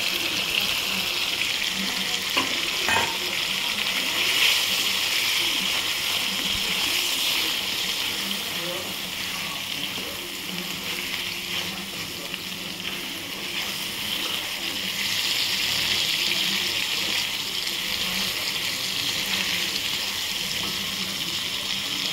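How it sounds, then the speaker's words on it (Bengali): Lightly fried fish sizzle steadily in a pan as a stone-ground spice paste goes in, a continuous wet hiss with a few faint knocks throughout. "মাছগুলো সব হালকা ভাজা হয়ে গেছে, এবার আমি মশলাটা দিয়ে দেবো।"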